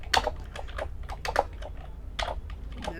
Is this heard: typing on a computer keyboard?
yes